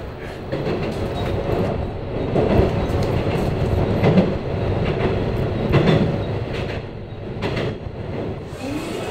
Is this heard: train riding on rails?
yes